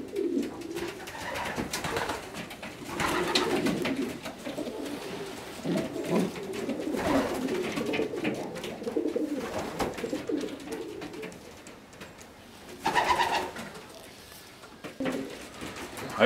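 Racing pigeons coo in a loft, with soft, repeated low coos carrying on nearly throughout, a louder burst near the end, and faint rustling and movement in the background.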